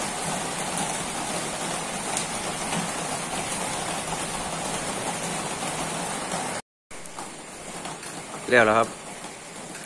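Heavy rain pours down as a dense, steady hiss that cuts out briefly, then resumes while someone speaks a few words near the end.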